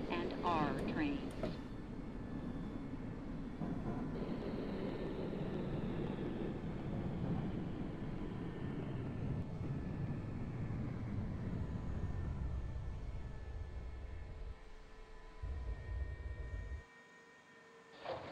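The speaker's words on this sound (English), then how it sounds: "This is a Brooklyn-bound Q express train." An R68 subway train on a Q express run in the OpenBVE train simulator rolls steadily with continuous rumble and a rising then falling motor whine, slowing near the end as the noise drops away, under an onboard announcement voice.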